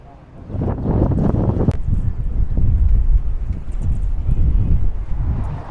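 Low, blustery rumble of wind buffeting the microphone on Hollywood Boulevard, Los Angeles, on a cold morning, gusting steadily with faint background traffic and scattered knocks.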